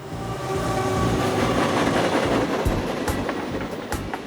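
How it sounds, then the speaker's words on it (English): A train rolls past an old tin barn northeast of Oklahoma City, its loud rumbling rail noise swelling and holding steady with rhythmic clacking and a faint whistle-like tone near the start. "he can hear the train as it goes by."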